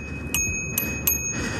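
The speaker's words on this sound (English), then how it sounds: "This thing's also rocking a little bell." A small bell on a Tenways CGO600 Pro ebike rings three quick bright dings, evenly spaced and close, with a faint fourth ring, over low road and wind rumble.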